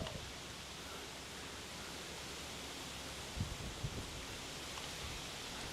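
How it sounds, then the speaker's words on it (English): Strong, fierce wind roars steadily outdoors as a dense, unbroken rush that buffets close against the microphone, with a couple of brief thumps partway through and no voices. "Man, that wind is fierce."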